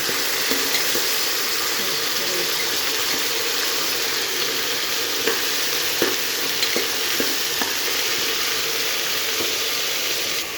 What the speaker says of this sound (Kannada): ಕ್ಯಾರೆಟು, ಪೊಟ್ಯಾಟೊ ಇಷ್ಟು ಕಟ್ ಮಾಡ್ಕೊಂಡಿದ್ದೀನಿ. ಇದನ್ನು ಹಾಕೋಣ ಇವಾಗ.